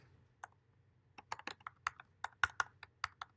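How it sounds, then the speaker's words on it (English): Someone types on a computer keyboard, giving quiet, irregular clicks that come in short bursts and single strokes close to the listener, with no speech. "I hate this keyboard."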